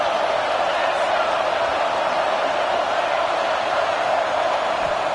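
A stadium crowd in a college football video game makes a dense, steady roar that holds loud and unbroken throughout, with no distinct voices standing out.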